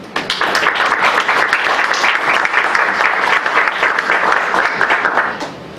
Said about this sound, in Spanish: La recibimos con un cálido aplauso.